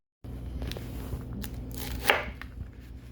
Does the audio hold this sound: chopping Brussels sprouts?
yes